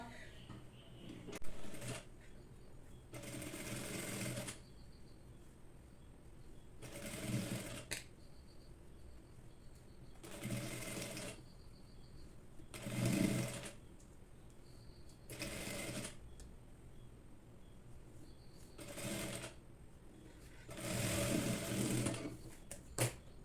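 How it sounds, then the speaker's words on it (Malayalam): A sewing machine stitches a folded cross piece onto a garment neckline in bursts of several seconds each, with quiet pauses between runs and no voices. "ചെറിയ കട്ടിങ് കൊടുത്തതിന് ശേഷം നമുക്ക് ഈ ക്രോസ് പീസിനെ നല്ല വശത്തേക്ക് മടക്കിയിട്ട് സ്റ്റിച്ച് ചെയ്ത് എടുക്കണം."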